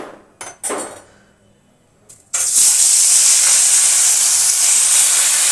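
Shol fish dropped into very hot mustard oil in a kadai, a few clicks and clatters and then a loud, sudden burst of steady, bright frying sizzle that continues close up to the end.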